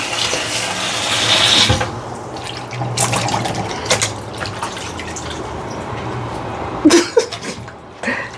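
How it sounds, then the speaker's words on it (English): Hot tap water runs into a kitchen sink to soak a rag, a broadband rush for the first couple of seconds, then scattered drips, splashes and clatter at close range. "Putting some hot water here in the rag."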